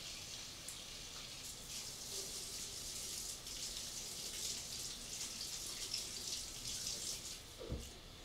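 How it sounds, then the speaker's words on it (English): Hands washed under a running tap, with a steady, soft hiss of flowing water and faint splashing throughout, heard alone and at a close distance. "I'll wash my hands."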